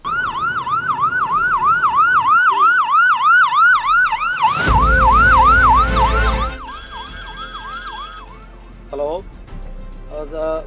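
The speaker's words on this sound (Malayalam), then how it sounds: "അത്യാവശ്യമായ ഒരാൾ വിളിച്ചാൽ എവിടെയാണെങ്കിലും പറന്നെത്തേണ്ട ആംബുലൻസുകൾക്ക് നഗരത്തിലൂടെയുള്ള ഓട്ടം ഇപ്പോൾ പരീക്ഷണ ഓട്ടമാണ്" An ambulance siren wails loud and near, its rising and falling tone repeating steadily through city traffic, with a burst of engine and road noise midway and then a steady electronic tone.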